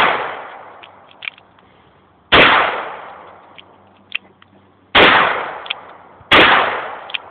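A Smith & Wesson 686 .357 Magnum revolver firing shot shell and .38 Special rounds outdoors: three loud, sharp reports spaced seconds apart, each followed by a long echoing decay.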